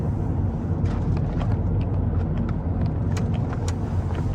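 A 2011 Volvo C30 D3 diesel hatchback with 148bhp rolls over broken pavement, giving a steady, close cabin rumble of road and tyre noise that holds evenly throughout, with no voices.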